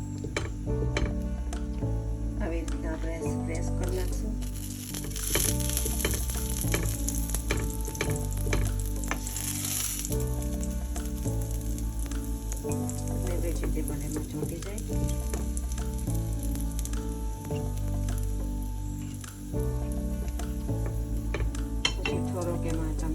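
Uttapam batter sizzling steadily on a hot pan, a continuous close frying hiss with small crackles and occasional light clinks of a utensil against the pan, no voices.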